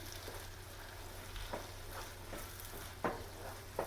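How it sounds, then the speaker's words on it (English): Shrimp risotto being stirred in a pan, with a soft steady sizzle under faint scraping strokes and a couple of sharper spoon knocks near the end, fairly quiet and with no voices. "Keep stirring."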